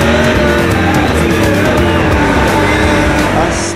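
A Stock Car racing simulator plays a loud, continuous engine roar with shifting revs and some tire-squeal-like texture, close and dominant throughout with no talking.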